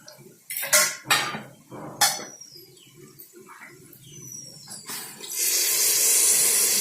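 Water pours steadily into a pot of mutton curry with turmeric and masala, a sustained rushing wash after several sharp metal clinks and scrapes of utensils against the cookware.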